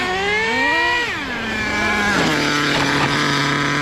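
An HPI Savage nitro RC truck engine, its cylinder sleeve badly scratched, screams loud and close with a high, wavering whine that rises, dips and settles into a sustained buzzing drone.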